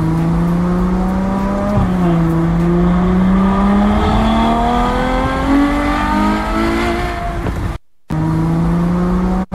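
A Ferrari sports car engine revs up loud and close, its pitch climbing steadily over several seconds, then cuts out briefly before resuming.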